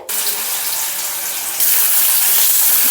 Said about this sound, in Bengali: আলুগুলো দিয়ে দিচ্ছি তেলে ফ্রাই করতে